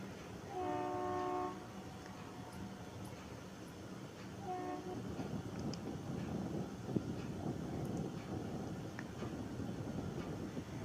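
A meter gauge diesel locomotive train passes, opening with a loud horn blast, then a second short honk, followed by a steady rumbling roll of wagons at moderate distance, with wind noise and no talk.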